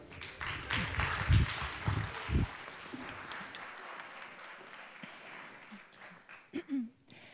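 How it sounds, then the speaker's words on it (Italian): An audience at a science-communication competition final in Trieste applauds a contestant. The clapping is moderate at first, then fades out, and a voice speaks near the end. "Un grande applauso per Catalina Reyes."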